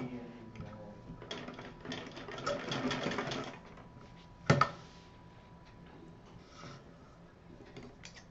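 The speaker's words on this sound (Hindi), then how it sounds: "दोनों सिरे मिलाते हुए इसको सिल दें" A sewing machine stitches the joined edges of a DIY fabric purse, starting with a short whirring run of rapid stitches, followed by a sharp clack and then a low quiet hum.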